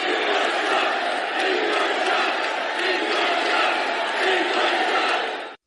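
Convention delegates inside Cleveland's Quicken Loans Arena roar in a dense, sustained crowd noise of booing and chanting, loud and continuous, filling the whole stretch before cutting off abruptly.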